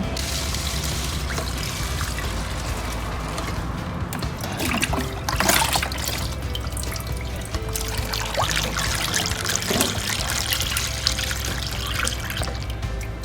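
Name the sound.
scooping kaffir lime ferment liquid into a bottle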